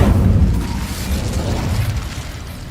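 An Incendio fire spell is cast in the Hogwarts Legacy video game, producing a loud, sustained rumbling fiery burst that holds steady for a few seconds with a heavy low-end roar.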